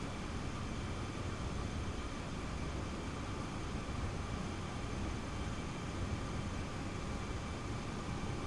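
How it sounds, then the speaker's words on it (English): Steady broadband rumble of an airplane passing in Train Sim World 2, a constant, unbroken drone with no distinct peaks, filling the whole stretch without any talk. "I heard a plane."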